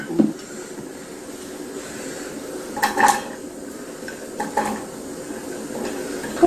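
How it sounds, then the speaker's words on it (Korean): Radish stir-fried in perilla oil in a pot, with sporadic metallic clinks and scrapes of a utensil against the pot over a low, steady background, close and fairly quiet. "들기름 넣어가지고 무를 좀 볶아줘야 돼"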